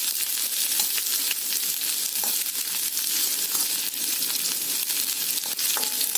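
Onion slices with cumin seeds and a little cumin powder frying in hot oil, a steady dense sizzle with occasional crackles and faint stirring, close and continuous, no voices.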